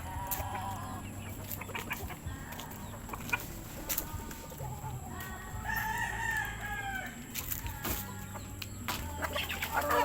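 A large Peruvian-cross rooster crows amid farmyard clucking and chatter, with background hum and occasional knocks throughout.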